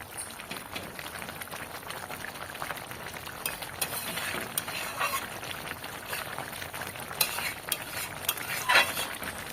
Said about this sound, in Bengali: ঝোল ফুটতেও শুরু করে দিয়েছে এইদিকে।